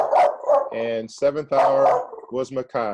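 A pet dog barks repeatedly indoors, loud and close, its sharp yips alternating with a person speaking.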